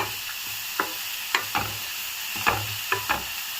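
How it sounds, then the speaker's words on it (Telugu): Grated carrots for carrot halwa frying in a pan, a soft steady sizzle broken by several sharp scraping stirs of a spoon against the pan at irregular intervals. "సిమ్లో పెట్టుకొని వేపుకోండి."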